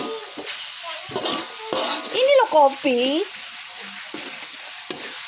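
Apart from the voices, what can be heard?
frying and stirring sausage and eggplant balado spices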